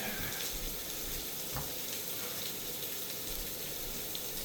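Onions sweating in a pan with salt and pepper, stirred with a silicone spatula, give a steady soft sizzle and hiss with faint scraping strokes throughout, fairly quiet and without talk.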